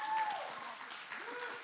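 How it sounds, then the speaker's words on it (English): Audience applause at an adult talent show, a steady wash of clapping from a crowd that holds evenly throughout with a faint tone near the start. "let's give another round of applause for all of this amazing talent that we saw"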